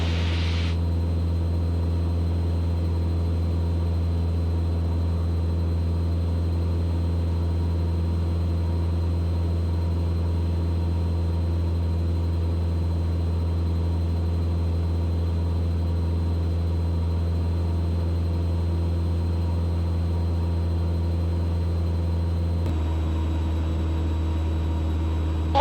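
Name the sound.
small propeller airplane climbing in flight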